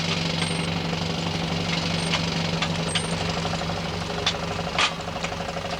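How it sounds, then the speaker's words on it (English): Old wood-fired steam engine in a garden shed running a generator, a steady mechanical throb with rhythmic knocking and hum, moderately loud, with a faint hiss and a few sharp clanks. "Some friends and I put this lovely old steam engine in a shed in our garden."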